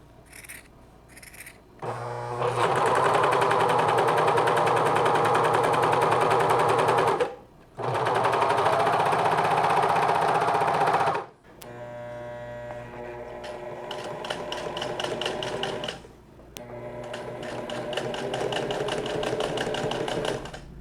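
An electric sewing machine stitching a grey sweatshirt, running in long steady buzzing stretches with brief stops and a slower, uneven section between them.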